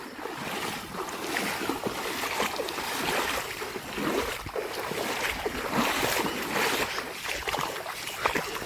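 Strong, rushing water pours steadily through a farm field or channel after heavy rain, a broad continuous roar that stays loud and close for the whole stretch, with no voices over it.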